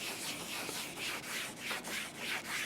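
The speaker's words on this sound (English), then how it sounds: "When it sounds rough like that, you've got to keep sanding" Steady rhythmic rubbing of soaked sandpaper across bicycle paint during wet color sanding, close and fairly quiet, with repeated back-and-forth strokes over a rough spot.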